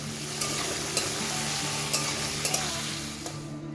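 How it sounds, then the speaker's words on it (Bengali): Prawns and half-fried onions sizzle steadily in a hot pan, with a few soft clinks and scrapes of stirring scattered through the continuous frying hiss. "পেঁয়াজটা মোটামুটি আধ ভাজা হয়ে গেলে এবার আমরা চিংড়ি মাছগুলো দিয়ে দেব"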